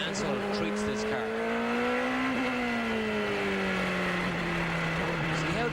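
Race car engine at a wet 1993 IndyCar race, a high whining note that rises, holds and eases with careful throttle, steady and loud over faint background noise, with commentary voices beneath.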